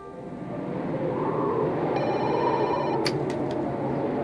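A telephone rings on an outgoing call, a ringback tone pulsing over a steady low hum, followed by a few short sharp clicks near the end.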